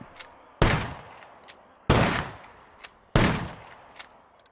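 A pump-action shotgun in the SCUM video game fires three loud, sharp blasts about 1.3 seconds apart, each decaying into a reverberant tail, with smaller mechanical clicks of the action cycling in between.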